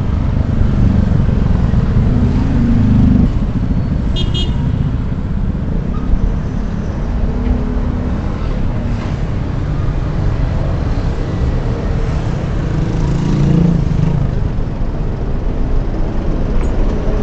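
Loud, continuous traffic at a street corner where C5 meets Levi Mariano. Engine rumble and passing vehicles blend into a steady near roar for the whole stretch, with no speech.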